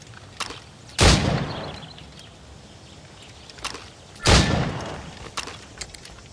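Two loud, sharp gunshots ring out in Assassin's Creed Rogue, about three seconds apart, each with a ringing decay, and fainter shot-like pops fall between and after them, with no talk.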